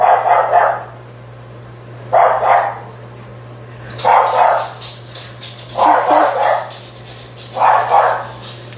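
A female dog barks in five evenly spaced bursts of one or two loud, close barks each, over a steady low background hum, while someone talks briefly.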